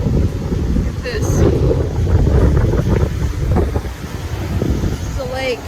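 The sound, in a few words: strong wind at Lake Tawakoni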